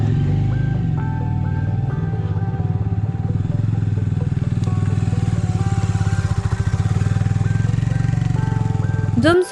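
A motorcycle engine idles on a cold morning in a mountain town, its loud, close, steady throbbing rumble running the whole time without a break.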